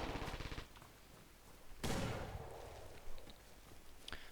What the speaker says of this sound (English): Grenades being thrown by both sides.